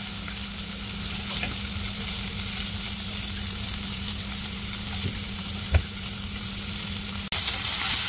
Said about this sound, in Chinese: 慢慢煎，逼埋嗰啲油出嚟